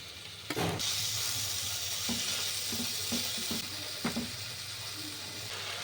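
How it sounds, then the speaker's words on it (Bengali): Steady sizzling of grated beetroot frying in a pan, with a few soft scraping stirs and light clinks; no voices. "বিটগুলো ভাজা হয়ে গেছে, 1 মিনিট মতন ভেজে নিয়েছি"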